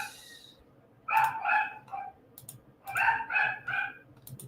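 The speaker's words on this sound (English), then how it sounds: "my dogs are going crazy" Several pet dogs barking indoors in two clustered bursts, a few sharp yips each, fairly close and loud, with a brief higher yelp in between and no talk.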